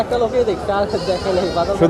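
Goats bleat intermittently at a busy rural livestock market, their cries rising over constant nearby crowd chatter.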